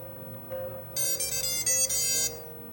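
Motors on a 7-inch FPV drone build briefly spin up during a bench motor test, producing a high tonal whine in several short pulses over a low background hum.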